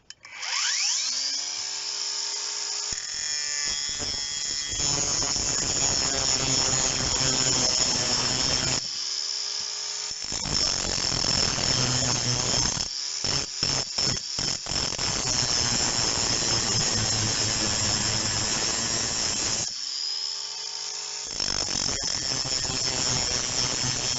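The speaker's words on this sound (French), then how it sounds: "on va meuler" A cordless 18V angle grinder grinds steel, a loud sustained high whine with rough grinding noise that cuts out and restarts several times as the trigger is released and pressed again.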